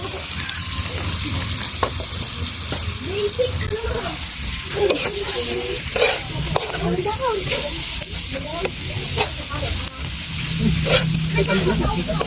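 Karot, a root crop, sizzles as it fries in cooking oil in a pan, a steady crackling hiss with scraping stirs and clatters, and a voice talks briefly over it.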